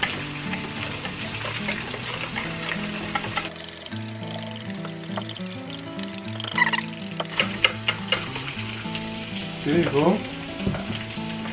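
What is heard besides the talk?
pancake batter sizzling in a pan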